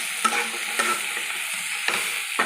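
A lentil mixture seasoned with chili and turmeric powder being stirred in a hot frying pan: a bright sizzle broken by a few sharp spoon scrapes and clacks, close and loud, with no voices.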